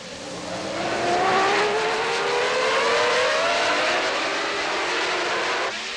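Formula 1 cars in the 1993 Grand Prix season scream past together, a dense high engine wail with rising and falling pitch as they accelerate through the corners, loud and steady throughout.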